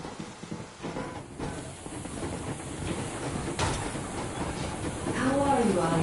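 A steam locomotive moving in a video game gives a steady rolling rumble with rhythmic wheel clatter and a hiss of steam, continuous and building slightly louder toward the end, with faint voices in the background.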